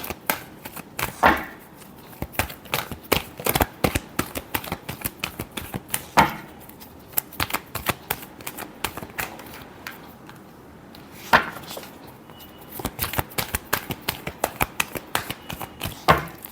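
Tarot cards riffled and shuffled by hand in a close, rapid burst of crisp flicking snaps, with brief pauses and a few louder slaps as the deck is squared, no talking.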